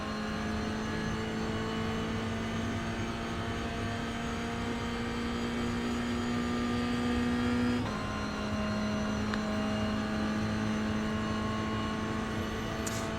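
A Toyota GR86 race car in iRacing charges down the main straight at Road Atlanta, its engine droning loud and steady with rising pitch, then a brief drop at a gear shift before climbing again.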